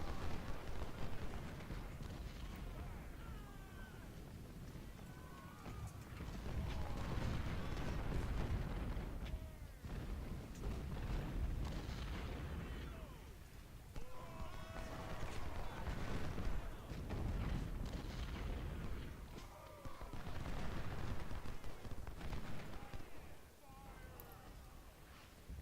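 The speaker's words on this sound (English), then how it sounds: "Artillery can take care of them." Civil War artillery at the Battle of Stones River booms repeatedly in a battlefield game, deep thuds recurring over a continuous din of combat noise, with someone talking throughout.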